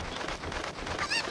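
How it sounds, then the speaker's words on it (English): A cucco chicken from The Legend of Zelda: Ocarina of Time gives a short, shrill squawk near the end, rising over a busy game soundtrack. "I'm going to have to get one of these cuckoos again"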